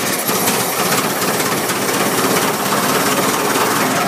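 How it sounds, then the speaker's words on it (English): A 1913 Fiat Tipo 55 speedcar with a 9-litre four-cylinder engine cranks and starts, giving a loud, dense mechanical roar with rapid rhythmic pulsing that stays constant and close throughout. "So by going pushing the button and going forward, we're going to hit the starter."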